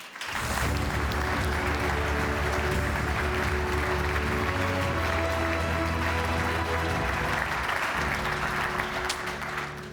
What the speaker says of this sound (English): A big round of applause for Adi Petrov.